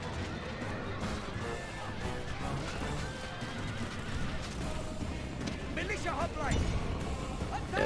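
Horses whinny and neigh amid a dense Rome: Total War battle between horse archers and militia hoplites, with a louder whinny near the end over steady combat noise; someone talks throughout.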